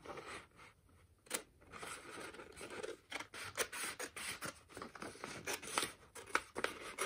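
Scissors cut through an Apple Watch band up close, with a quick series of sharp snips and scraping rubs in an uneven rhythm, fairly quiet and with no talking.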